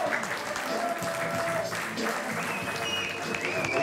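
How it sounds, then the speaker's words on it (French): An audience claps at the end of a stage show, steady applause of moderate volume that keeps going without a break, with faint voices mixed in. "il y a des applaudissements"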